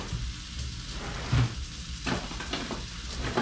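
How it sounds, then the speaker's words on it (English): Fish seared in a hot pan for a taco, a steady close sizzle and crackle with a few louder pops, no voices. "I just want to sear that just a bit"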